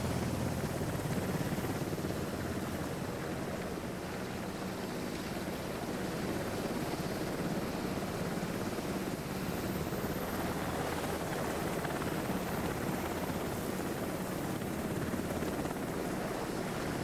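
A helicopter in the video game House of Ashes, a steady loud rotor and engine roar with whooshing wash that holds constant throughout with no letup.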